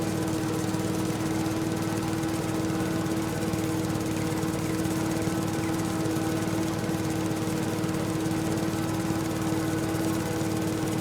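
A lawn mower mowing in a video game, with a steady droning engine hum and a strong constant tone, close and unbroken, with no talking.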